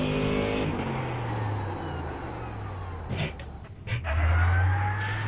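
Brakes of a Ford Mustang GT3 in the iRacing sim squeal in a rough, sandpapery hiss over a steady engine drone, with a sharp tonal squeal and a brief dip before the engine swells back loudly.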